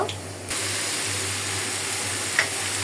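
Small fish frying in hot oil in a wok, a steady close sizzle that starts softer and swells after a brief moment, continuing evenly with a small clink near the end.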